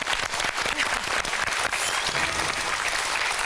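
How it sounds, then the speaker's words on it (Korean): A studio audience on a Korean talk show breaks into dense, continuous applause, loud and even from start to finish with no voices standing out. "우리 이혜정 선생님 박수를 한번 들어볼까요?"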